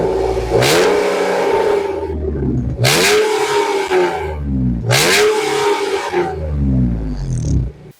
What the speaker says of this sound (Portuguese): Dá uma aceleradinha no motor aqui de leve.